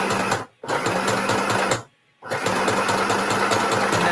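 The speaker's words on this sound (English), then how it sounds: "I'm just going to go and do my little sewing" Sewing machine stitching fabric in three loud, fast buzzing runs separated by two brief pauses, close and steady with no talk.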